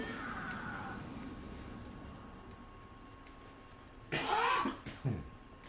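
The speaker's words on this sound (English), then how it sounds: "So sorry about the cough." A pair of short, sharp coughs breaks out near the end after several seconds of quiet background noise, the second one briefer.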